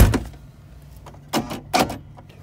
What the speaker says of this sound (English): I can get the door shut.